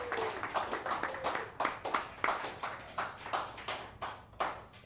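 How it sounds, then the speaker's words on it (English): A small audience at a casual live-streamed climate policy gathering gives scattered applause. Distinct individual claps land in an uneven, sparse rhythm, fairly quiet and with no talking. "Round of applause."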